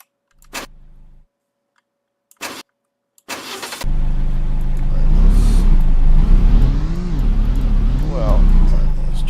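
A car engine in the game Fishton cranks and catches after a few short bursts, then settles into a loud, steady running hum with slight revving; someone talks over it.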